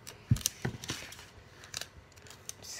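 Scissors snipping through paper while cutting out a homemade pop it toy, a few quiet close clicks and slides at the start, then soft rustling handling in a quiet room.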